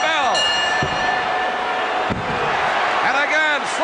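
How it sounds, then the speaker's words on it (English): A wrestling ring bell clangs during a 1984 WWF bout between Sgt Slaughter and The Iron Sheik, ringing out bright and metallic over loud crowd noise and commentary. "The referee has called for the bell."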